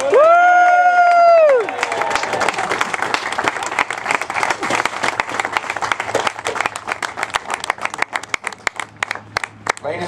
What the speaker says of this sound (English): please give one more round of applause for our Stony Brook senior class of 2015